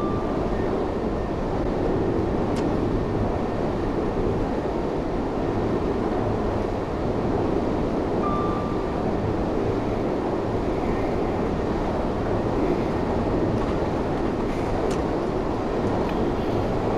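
Class 385 electric train in Train Sim World 3 running at speed toward 70 mph on the Glasgow to Croy line, a steady, continuous rolling rumble with broadband hiss that holds evenly throughout, with no talk.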